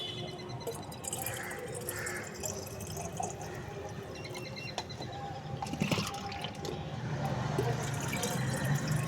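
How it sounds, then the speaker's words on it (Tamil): Filtered banana liquid is poured from a tumbler into a litre of water, a soft continuous trickle and splash that is faint at first and grows into a fuller gurgling pour toward the end. "ஒரு லிட்டர் தண்ணி ஊற்றி வச்சுருக்கோம் அதில் இதை ஊற்றுறோம் பாருங்கள்"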